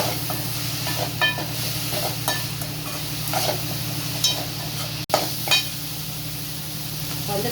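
Eggplant with chilli and coriander powder sautéing in a pan, giving a steady close sizzle with intermittent stirring scrapes and clinks throughout, no voices.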